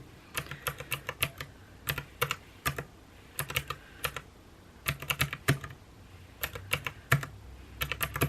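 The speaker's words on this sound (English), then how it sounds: "those of you that hate the clicking noise of this calculator" Rapid plastic calculator button clicks in irregular bursts, tapped quickly and close up, with short pauses between runs of presses.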